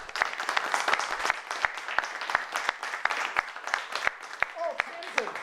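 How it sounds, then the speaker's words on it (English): A small crowd claps at a live hackathon event, sharp individual claps and a loose patter of applause carrying on for several seconds, with some voices chatting underneath. "I think we need to give them a round of applause"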